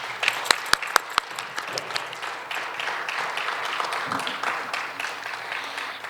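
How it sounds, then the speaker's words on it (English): Audience applause at an Independence Day concert of sitar performers: a few sharp opening claps quickly swell into sustained, even clapping from a large crowd, moderately loud and steady to the end. "Let's give them a big round of applause."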